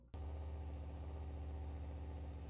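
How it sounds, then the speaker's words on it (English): A monster truck engine in the racing game BeamNG.Drive starts up after a short silence, then runs steadily and loudly at idle with a low, even drone. "I will turn down the game volume now since it's actually got an engine sound now"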